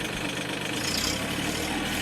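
A backhoe's diesel engine runs steadily and loud throughout, a continuous rumbling drone with a rough, knocking texture, held under increasing throttle with no talk over it.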